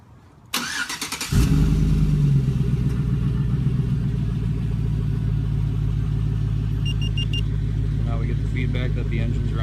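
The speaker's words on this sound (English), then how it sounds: "You can hear the SLP catback." A crew cab truck fitted with an SLP catback exhaust is remote-started and settles into a steady idle with a low, mild exhaust rumble, heard up close.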